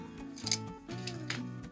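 Scissors snip through thin paper-covered wire, two quick metallic cuts close up with soft music continuing underneath, while making paper carnations.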